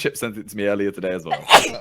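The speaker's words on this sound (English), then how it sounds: "I need to sneeze." Sneeze from a woman, a loud burst near the end right after her casual talk, with other voices chatting around it.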